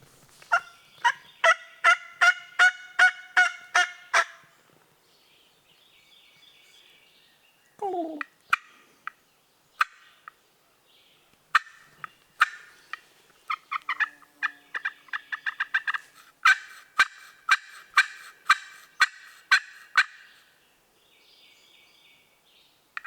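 A young child in a turkey calling competition for ages five and under makes repeated gobble and yelp calls in quick rhythmic bursts, close and loud, with pauses between series; a voice imitating a turkey.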